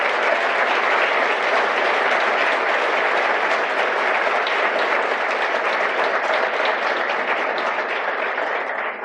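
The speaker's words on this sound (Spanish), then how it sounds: "quiero pedir un aplauso para nuestro ministro de Economía, el mejor ministro del mundo" Sustained applause from a large audience for the economy minister at a speech at Fundación Faro, a dense, loud, even roar of clapping lasting throughout and tapering slightly at the close.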